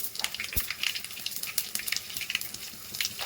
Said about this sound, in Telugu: ఆయిల్ అయితే హీట్ అయిపోయాక ఆవాలు వేసుకోవాలి